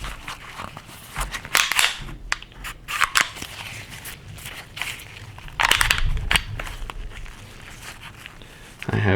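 Springfield Armory XD9 pistol being disassembled for cleaning, with a string of crisp metallic clicks and snaps from slide and parts handled up close, scattered irregularly between quieter handling noise.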